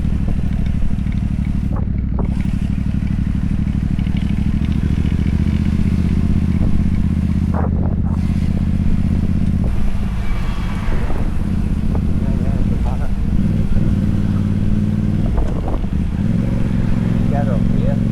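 A learner's motorcycle idles and pulls away in first gear on a hill start, a low steady engine drone with wind buffeting the microphone and occasional clatter, while an instructor talks over it throughout.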